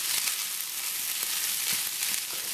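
Fried rice stirred and tossed in a hot skillet, giving a steady, dense sizzle with faint scraping and stirring clicks throughout.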